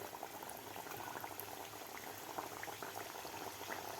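Matar kachoris, three to four at a time, deep-frying in hot oil, giving a steady, dense bubbling sizzle that holds even throughout with no voices.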